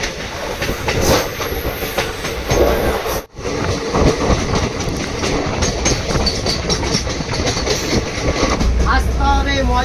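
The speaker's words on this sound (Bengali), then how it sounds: "আপনারা ততক্ষণ এই ট্রেনের যাত্রাটা একটু এনজয় করুন" A passenger train running from Kolkata to Jhargram rumbles loudly and steadily with clattering wheels and carriage noise from on board, one brief dip partway through, and voices faintly mixed in.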